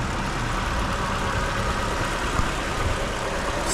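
The 5-liter M113 V8 of a 2004 Mercedes-Benz S500 Designo idles steadily, a smooth even rumble heard close and loud without variation or voices.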